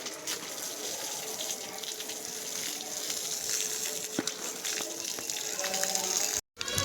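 Water sprays steadily from a pipe onto a newly built wall, a continuous hissing gush of moderate level with a brief dropout near the end.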